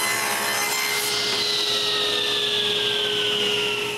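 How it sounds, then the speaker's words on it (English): Saw ripping a strip lengthwise from a piece of wood, a continuous close, loud rasping cut with a steady whine running throughout. "Next, I take the two left pieces and rip a strip on each of them."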